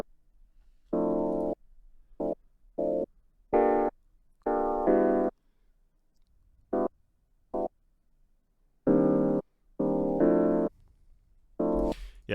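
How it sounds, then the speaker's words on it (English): A chopped jazz ensemble sample loop, warped in Beats mode, stutters in and out in abrupt bursts separated by sudden silences, giving a glitchy, choppy rhythm. "the reason it sounds so kind of glitchy is because I have this beats mode selected"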